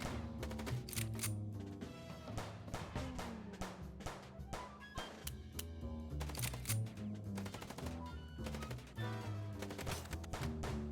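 Gunfire in the Chicken Police video game, rapid repeated shots cracking over a dense, rhythmic game soundtrack throughout, loud and busy.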